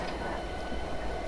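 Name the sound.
SD70 diesel locomotive idling, from video game Train Simulator Classic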